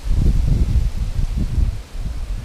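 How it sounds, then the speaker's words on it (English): Strong wind blowing outdoors while fishing in high winds, loud low buffeting gusts rumbling against the microphone throughout with no other sounds. "It's pretty windy out here."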